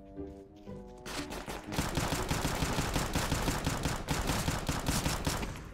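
Rapid gunfire in a CS:GO battle royale match, a sustained automatic burst of loud, dense shots following a brief quieter moment at the start.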